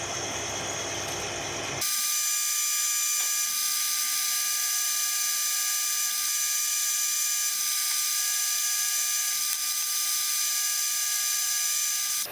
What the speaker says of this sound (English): So the first thing we'll do is start to bore out the hole